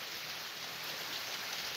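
Rain falls on a boat as a steady, even hiss of drops, faint and continuous with no voices.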